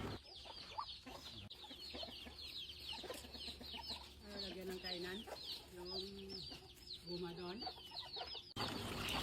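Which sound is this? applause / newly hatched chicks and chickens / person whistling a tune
newly hatched chicks and chickens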